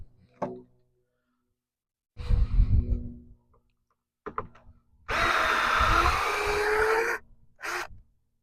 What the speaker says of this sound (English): I'm going to start running these screws out and pulling this plastic off